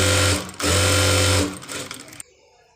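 A sewing machine stitches the back pieces of a prince-cut blouse together, a steady close mechanical whir that runs in two long stretches with a short pause between them, then stops abruptly.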